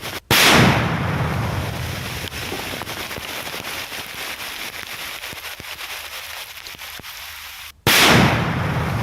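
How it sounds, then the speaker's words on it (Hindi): An IED planted to harm security forces is blown up in a controlled detonation near the Chhattisgarh–Telangana border, a loud blast opening into a long rumbling roar that fades before a second sharp burst near the end; no talk. "सुरक्षा बलों को नुकसान पहुंचाने के इरादे से आईईडी प्लांट किया गया था और इसे विस्फोट कर नष्ट कर दिया गया।"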